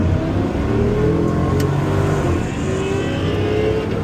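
A stock Holden VY SS V8 is held on the brake at a drag strip launch, and its engine sits in a loud, steady, deep roar under heavy load. The sound is continuous and close, with no talk.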